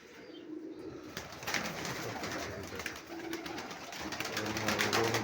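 Homing pigeons cooing at their loft after being caught in a storm, a steady murmur of soft coos and rustling from several birds close by, with no talking.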